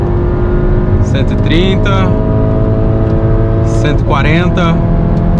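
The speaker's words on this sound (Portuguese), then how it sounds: "então rapidinho ele ganha velocidade até na subida" A VW Fusca TSI with a Magnaflow exhaust pulls hard uphill, its engine note rising steadily through the gears with loud rasping revs and a gear change, while a man calls out speeds over the drone.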